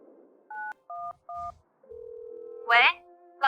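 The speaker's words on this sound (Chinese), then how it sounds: "打个电话问问情况吧。" Three short telephone keypad tones sound in quick succession, followed by a long steady ringback tone, with a voice speaking briefly near the end.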